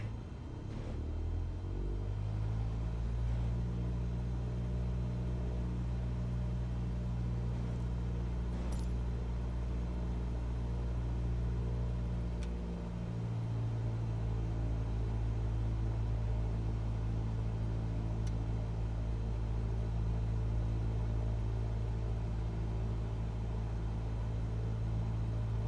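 A Cessna 172 engine runs at 1800 rpm in Microsoft Flight Simulator 2020, a loud, steady low drone that settles quickly, shifts slightly in pitch partway through, and continues alone without talk.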